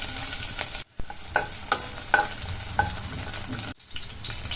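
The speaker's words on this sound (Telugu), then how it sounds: "ఆయిల్ హీట్ అయ్యాక చాప్ చేసుకున్న గార్లిక్ వేసుకోవాలి" Chopped garlic and chili sizzle steadily in hot oil for street-style veg fried rice, with repeated scraping stirs at an even pace and two brief pauses.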